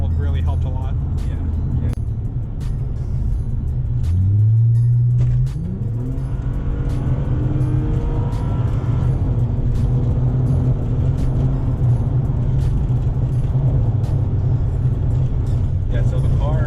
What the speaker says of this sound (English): aside from the MagnaFlow mufflers, I kept the stock resonator on it